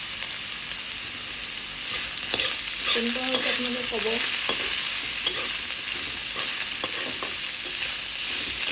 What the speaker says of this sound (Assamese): এয়া নতুনকৈ বাঁহগাজ ওলাইছে বাঁহগাজৰ আজি ভাজি বনাইছোঁ